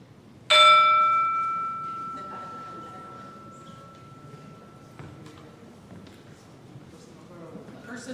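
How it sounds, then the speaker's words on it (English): A gong is struck once for a worship service, ringing out with a bright metallic shimmer that decays slowly over several seconds against a quiet room. "Now we will sound the gong."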